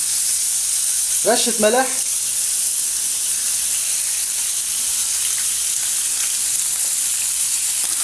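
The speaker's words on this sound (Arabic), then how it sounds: "واوضع هذا الدجاج لاشويه." Chicken sears in a hot pan for a chicken Alfredo pizza, giving a steady, close sizzling hiss throughout, with a voice speaking briefly near the start.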